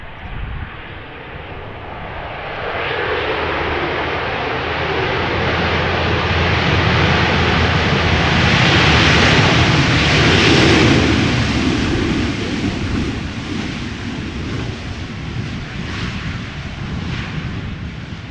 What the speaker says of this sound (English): Flight 337 arriving from Tel Aviv, 737-900, with a flight time of 4 hours and 42 minutes.